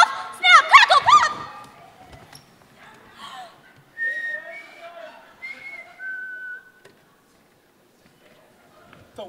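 A short, bright whistled melody at the start, followed by quieter scattered tones and background chatter.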